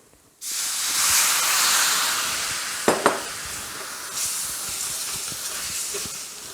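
A loud rush and hiss of water poured into a hot pan of fried onion and flour, steam sizzling, then settling into a softer bubbling simmer with a couple of clinks.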